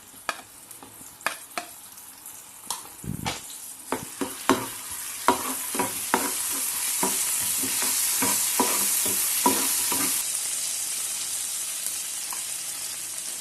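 Onions with garlic and green chillies sautéing in a pan, with a string of clear stirring scrapes and knocks over a sizzle that rises and holds steady and loud, no talking.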